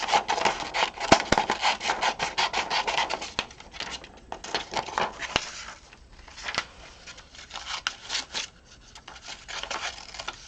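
Scissors snipping through a paper card template, a steady run of close, crisp cuts with short pauses between strokes and no talking.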